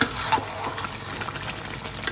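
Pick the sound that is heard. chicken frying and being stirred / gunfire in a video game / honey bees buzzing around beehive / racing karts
chicken frying and being stirred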